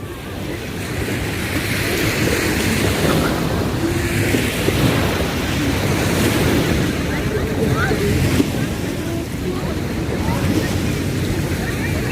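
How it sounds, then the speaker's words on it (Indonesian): Steady surf rolls onto the beach at Pantai Bosowa Indah in Makassar, a continuous wash of breaking waves with wind buffeting the microphone throughout. "Kita di pantai."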